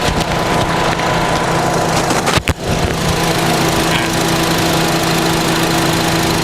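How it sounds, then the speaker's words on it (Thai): A Honda Civic FD2 2.0 engine idles close up with a steady hum, a constant low drone and slight mechanical clatter, interrupted by one brief dip. "เสียงเครื่องเป็นประมาณนี้นะครับ"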